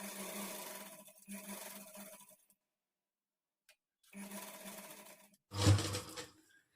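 A sewing machine stitches the lining of a blouse in two close bursts of motor whir separated by a silent pause, with a sharp loud knock near the end.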